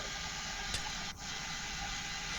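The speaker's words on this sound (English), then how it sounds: "So we'll get our hairdryer out." A hairdryer blows steadily while drying alcohol-inked craft paper, a faint continuous whooshing hiss with a brief dip partway through.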